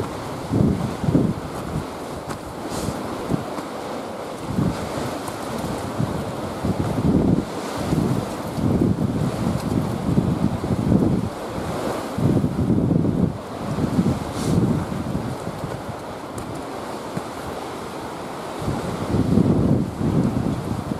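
Strong wind on the summit of Mount Lawu roars continuously in heavy, buffeting gusts that batter the microphone throughout, loud and close.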